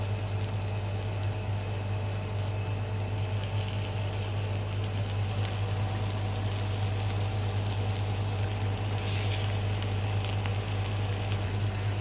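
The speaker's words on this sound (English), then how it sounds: "So now all you want to do is put the bacon on." Bacon fries on a beef burger in a pan, giving a steady, continuous sizzle and crackle over a low electrical hum, unbroken for the whole stretch with no talking.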